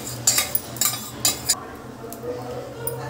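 A spoon spreading egg and chicken gravy across a dosa on a hot griddle, giving a few quick metallic scrapes and clinks over a faint low hum, with light sizzling in the pauses.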